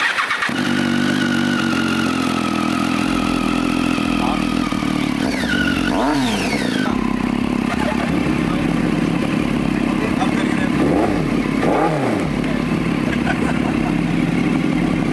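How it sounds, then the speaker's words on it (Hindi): Motorcycles started and revved at a Tata Altroz Racer 2024 launch event: a loud close engine idling throughout, with sharp rising revs repeating, plus background chatter. "एक बार उनको स्टार्ट करके दिखाना है"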